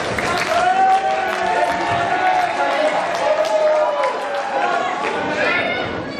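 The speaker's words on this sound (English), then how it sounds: "Crowd now really getting behind Dan Moore" A wrestling crowd at a tag team match cheers and claps for Dan Moore, producing a loud, sustained roar with shouts and applause throughout, while a commentator talks over it.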